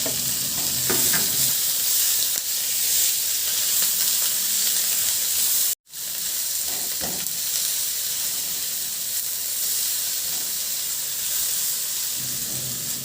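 Onion and tomato sizzle loudly while frying with string beans, a constant bright hiss with occasional stirring scrapes, briefly interrupted by a cut midway.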